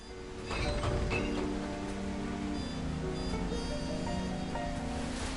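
Water poured for tea in the video game Lego Marvel Superheroes 2, a continuous splashing, bubbling stream that starts abruptly and runs steadily, close and moderately loud, with a faint tonal background underneath.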